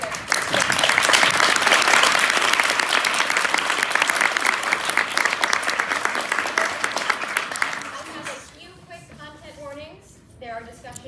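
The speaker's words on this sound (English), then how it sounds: "Please stand up and give your round of applause." Theatre audience at a concert reading of a short play giving a loud, sustained round of applause that fades after about eight seconds, followed by a person speaking.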